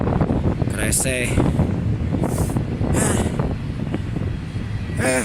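A train rumbles past outdoors during a severe thunderstorm, a low continuous roar buffeted by heavy wind noise on the microphone, with a voice talking intermittently over it.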